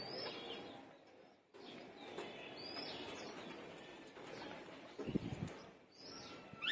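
Pigeons coo softly in short rounded phrases, with a few higher chirps and a brief burst of wing flapping near the end, faint and somewhat distant, with no talking.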